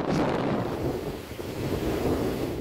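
Waves nearly two metres high roll onto Sabangan Beach in Ilocos Norte, Philippines, with strong wind buffeting the microphone; a loud, continuous roar of surf and gusts with no talking.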